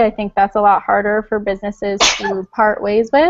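A person sneezes once, a short sharp burst in the middle of close conversational speech that continues right before and after it.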